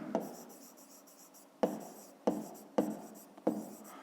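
Pen writing on paper during a fifth-grade maths exercise, a close, quiet scratching in short strokes separated by sharp taps as the pen lands on the page.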